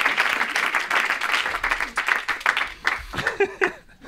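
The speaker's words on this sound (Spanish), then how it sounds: "Un aplauso para este muchacho" A television studio audience claps and cheers in a lively burst, with a few laughs mixed in, the applause thinning into scattered claps toward the end.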